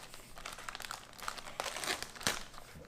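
A knife cuts open the tough plastic package of a 2017 First Strike Ration MRE, with close, faint crinkling and crunching of the wrapper in quick irregular bursts.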